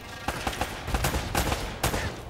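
Gunfire in Uncharted: Drake's Fortune, a quick burst of several loud, sharp shots in uneven succession, close and dominant, with no talking.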